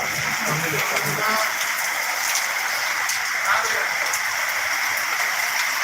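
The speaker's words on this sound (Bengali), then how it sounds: "পর যে বৃষ্টি শুরু হয়েছে" Steady, dense hiss of rain falling in Dhaka, Bangladesh, continuous throughout with faint background noise and no clear voices.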